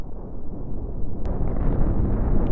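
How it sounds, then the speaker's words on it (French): A nuclear bomb detonates in a video game that destroys planet Earth: a low rumbling roar begins, then a sharp burst adds a heavier, rising blast that swells and keeps churning to the end. "Et là, oh, l'explosion de malade."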